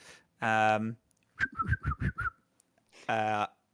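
A person whistles to imitate a harmonica, giving two sustained reedy tones around a run of short chuffing, breathy notes, close and fairly loud.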